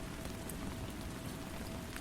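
Steady, soothing rain falling on a surface on a misty night in a street lit by vintage lamps, a dense, even hiss of drops throughout with no voices.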